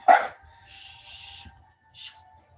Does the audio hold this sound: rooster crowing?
no